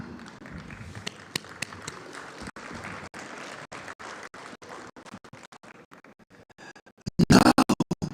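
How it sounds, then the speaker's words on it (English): Audience applause at an IIT event in India, a steady wash of clapping from a crowd, swelling to louder, sharper claps near the end. "You should applaud yourself."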